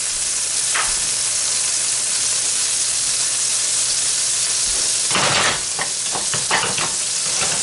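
Three tablespoons of butter sizzling and frying in a pan with leftover pork chop oil, a steady close hiss with bursts of louder crackle and stirring toward the end, no talk.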